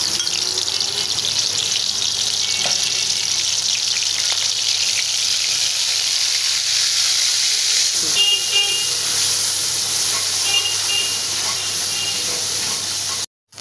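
Spice paste with chili powder hits hot oil in a heated wok, a loud, dense, continuous sizzle that holds steady throughout before cutting off abruptly at the end, with no talking.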